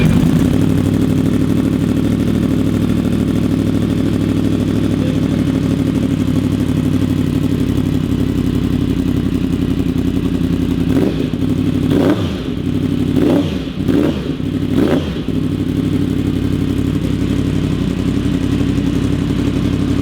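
A Yamaha YZF-R1M motorcycle fitted with an M4 GP-mount slip-on exhaust idles loudly and close, a deep steady rumble, then blips the throttle several times in quick succession before settling back to idle.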